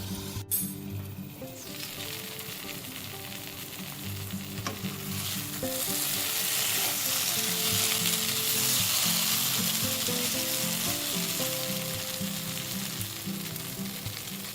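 Okra stir-frying in a covered pan in an Indian-style dish sizzles steadily, the frying rising louder midway and holding as a continuous hiss, with a few faint clinks and knocks of the pan or lid early on.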